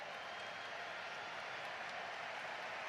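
A football stadium crowd at a FIFA World Cup group match between the USA and Paraguay applauds a departing player, a dense, steady wash of clapping that holds evenly throughout.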